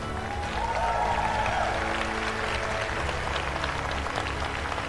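Steady applause from a large crowd at a university graduation ceremony in Lesotho, a dense continuous wash of clapping lasting several seconds with a faint tone briefly above it.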